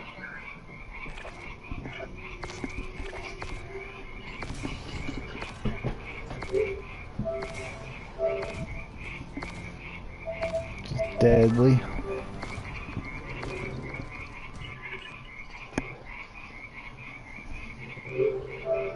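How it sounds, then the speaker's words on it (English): Many frogs croak steadily in the background while a video game is played, a rhythmic chorus that runs throughout under brief talk and game sounds. "Why does it sound like somebody's got like frogs in the background or something?"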